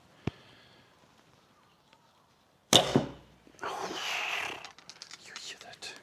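An arrow shot from a Smaug 2XL recurve bow gives a sharp snap of the string followed by a brief whoosh, then a hissing rush, all heard outdoors with no talking.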